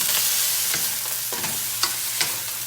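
Garlic and sausages stir-fry with broccoli in a hot pan, giving a constant bright sizzle with a few scraping knocks of the utensil against the pan scattered through it, close by and without talk.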